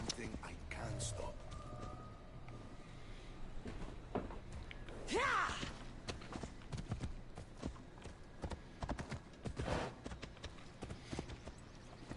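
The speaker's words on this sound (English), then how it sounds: "Alright, his horse ran away from him." A horse gallops away in the video game Assassin's Creed Odyssey, its clip-clop hoofbeats running steadily under game ambience, with quiet voices murmuring in the background.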